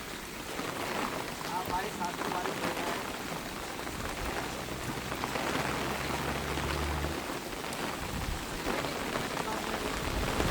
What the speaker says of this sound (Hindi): बहुत ही तेज़ तूफान चल रहा है, बहुत ही ज़्यादा तेज़